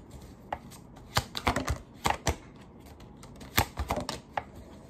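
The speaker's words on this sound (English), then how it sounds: "cards are going crazy, dropping all of them" Tarot cards are shuffled and dropped, making quick clusters of crisp flicks, slaps and rattling taps in irregular bursts, close and moderately loud with quiet gaps between.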